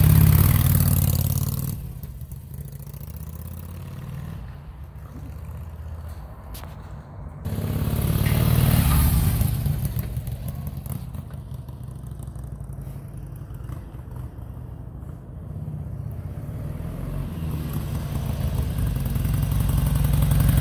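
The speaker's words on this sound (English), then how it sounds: "It runs like a brand new motorcycle now that Jeff put a new fuel pump in it" A motorcycle fitted with a new fuel pump and fuel injectors runs nearby, idling with a steady low throb and rising in a few revving swells, heard close and alone throughout.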